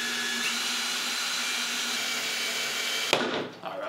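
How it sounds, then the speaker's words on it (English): Power driver screwing wooden pieces together for a wheel build, a steady whirring motor hum lasting a few seconds before cutting off with a sharp clack. "So let's start by screwing these together."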